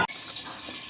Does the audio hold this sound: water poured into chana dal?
yes